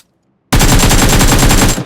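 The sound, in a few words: M4 rifle gunfire in a video game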